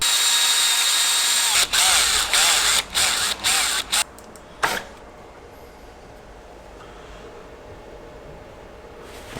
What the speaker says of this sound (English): I just need to go now and screw this all together